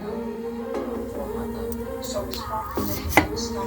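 A steak knife cuts into raw potatoes, giving several crisp chopping knocks against a board with a sharper thud near the end, under low room noise.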